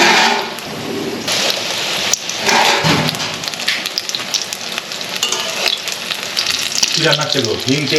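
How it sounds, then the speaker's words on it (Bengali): Gram-flour battered chops fry in very hot oil in a wok, a loud, dense, continuous sizzle that surges as pieces drop in, with brief clatter and faint voices in the background. "বেসনের মধ্যে এভাবে ডুবিয়ে নেব কড়ার মধ্যে ছেড়ে দেবো তেলটা মনে হয় একটু বেশি গরম হয়ে গেছে"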